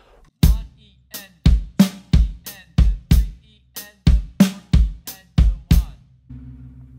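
A drum kit plays one looped bar of a beat, punchy kick and snare hits in a steady pattern with sixteenth-note accents, close and dry, alone without talk.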